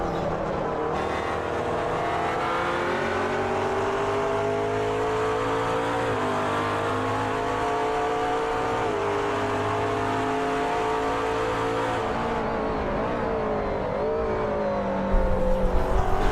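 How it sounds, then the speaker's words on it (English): Race cars in a sim-racing game circle the Watkins Glen circuit in a GTC league race, engines droning loud and steady as they run nose to tail, with pitch rising and falling through gear changes and corners. "It's just the cars lapping around, and they can resume their battle."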